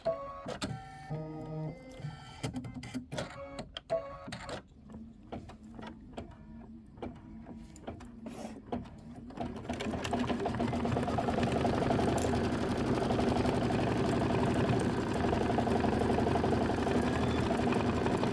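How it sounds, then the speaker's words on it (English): An embroidery machine stitches a Kimberbell Hello Sunshine design, first with sparse irregular clicks and taps, then settling into a loud, continuous rapid whirring hum of stitching for the rest of the stretch, with no talking. "This is 4 minutes of stitching."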